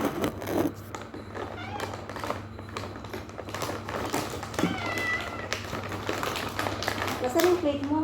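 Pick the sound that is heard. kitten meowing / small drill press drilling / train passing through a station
kitten meowing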